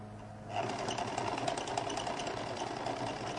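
A sewing machine starts up and runs continuously, stitching a seam on a lady's jacket. It gives a loud, close, rapid whirring hum after a short quiet start, with no talking.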